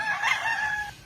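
A rooster crows once in a single drawn-out call, close and fairly loud, with its strained cry trailing off toward the end.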